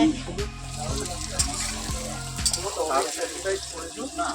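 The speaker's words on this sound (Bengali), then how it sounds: "এখানে ভাজছি এবার পিঁয়াজ" Onions fry in a pan in a home kitchen with a steady, close sizzle, while a voice talks faintly over it.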